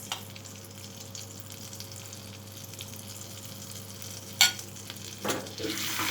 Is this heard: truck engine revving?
no